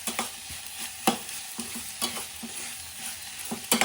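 Onions are being stirred in an AMC cookware pan, with a soft sizzle and repeated scraping and knocking strokes of a spatula at an irregular rhythm. The sound is close and there is no talking.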